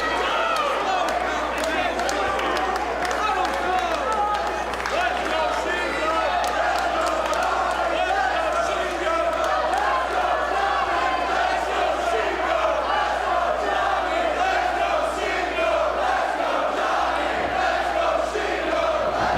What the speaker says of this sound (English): Again, this crowd has come alive.